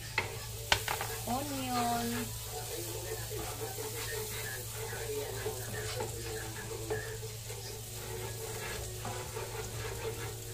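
Onion sizzling in a pan for chicken à la king, a soft continuous frying hiss with occasional stirring clinks and a steady low hum beneath, faint speech passing briefly over it.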